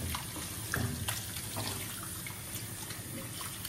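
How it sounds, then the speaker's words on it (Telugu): Two kilograms of boneless chicken being rinsed under a running tap, a steady, close hiss and splash of flowing water that continues without a break. "నీళ్ళు పోయేదాకా మనం ఫ్రెష్గా కడుక్కోవాలి"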